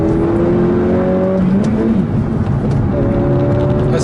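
A car's engine drones loudly and steadily from inside the cabin during a test drive on a track under braking, its tone rising and falling with gear and speed changes, with no talk over it.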